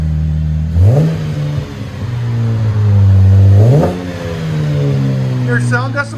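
Two sharp throttle blips from a 2012 Cadillac CTS 3.6L V6 fitted with Vibrant quiet flow exhaust, each rising quickly and settling into a deep rumbling idle, recorded up close.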